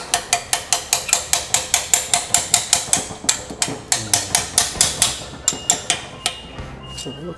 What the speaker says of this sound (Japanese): ここはちょっと本当に叩いて抜かないと